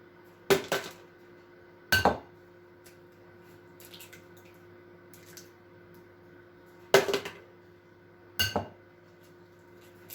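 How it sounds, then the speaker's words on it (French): Four whole eggs are cracked into a mixing bowl for a chocolate and red bean fondant, giving four sharp, close cracking taps at irregular intervals against a quiet kitchen background. "Vous cassez vos œufs, les 4 œufs entiers dedans."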